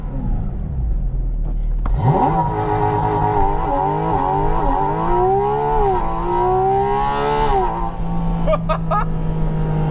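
A Porsche engine is held above 6,000 RPM for a launch control start: a loud, close, steady howl that wavers and climbs before dropping off near the end.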